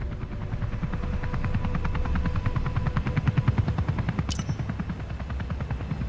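Engine and rotor of a Comanche helicopter in a PC flight game: a fast, regular rotor chop over a steady engine whine, loud and constant, with a brief sharp click near the end.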